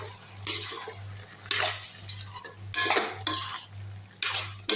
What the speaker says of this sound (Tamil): கிண்டி விட்டுடலாம்.